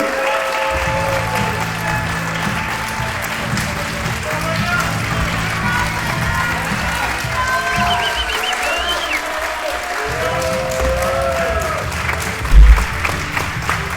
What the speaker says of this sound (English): A round of applause for all of our competitors tonight